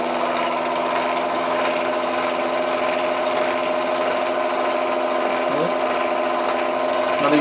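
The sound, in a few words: Meccano electric motor running, powered by 1949 T20 transformer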